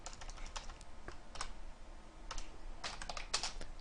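Rapid typing on a computer keyboard, with bursts of clustered keystrokes that speed up and pause, fairly close and alone over a low steady hum.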